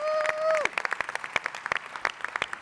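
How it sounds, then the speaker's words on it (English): Audience at a panel conversation gives a round of applause, sparse individual claps from a small crowd following a sustained tone that cuts off early. "if you don't mind giving him a big round of applause"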